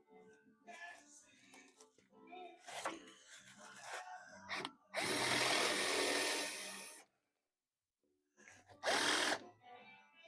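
A power drill whirs loudly for about two seconds while removing a torque box, then gives another short burst after a pause, with quiet fumbling sounds beforehand.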